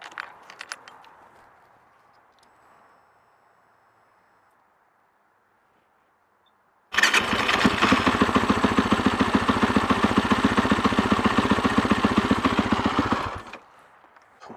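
A Suzuki LTR474 ATV engine with fresh motor work fires up after a quiet pause and runs at a loud, steady buzzing idle for about six seconds before cutting off, close by, with no one talking.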